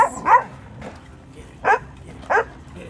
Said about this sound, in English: she's still running and barking